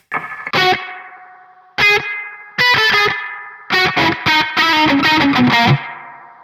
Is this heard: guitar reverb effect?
yes